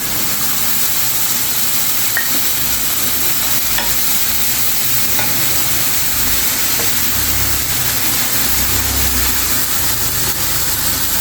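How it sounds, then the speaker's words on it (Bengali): Ground cumin, ginger and green chilli paste goes into a hot pan for a village-style pabda fish curry, giving a steady, loud broadband sizzle that holds throughout with no talking. "এখন আমি দিয়ে দিব জিরে, আদা, কাঁচা লঙ্কা একসঙ্গে বাটা"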